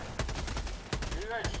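Two booming blasts in the video game Helldivers 2, the second followed by a short rising electronic tone, over a dense background of game noise.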